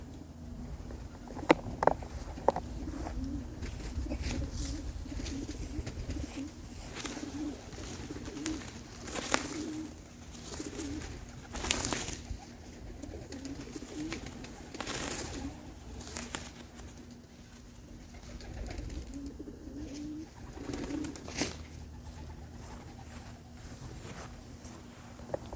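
Young racing pigeons flagged up outside by a black flag, with soft cooing and occasional wing flaps against steady outdoor background noise, no talk.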